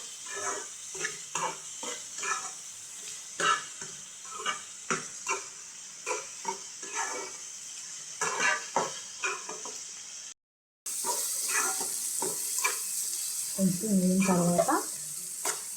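Dried fish pieces sizzle and fry in a pan with salt while a utensil stirs and scrapes in repeated strokes, a steady hiss throughout, and a voice briefly speaks.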